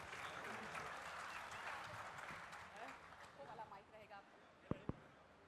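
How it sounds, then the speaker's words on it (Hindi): Audience applause at a televised public forum event, faint and distant, a sustained patter of clapping that thins out toward the end, with a couple of sharp knocks at the close. "लगातार जोरदार तालियां बजाएं"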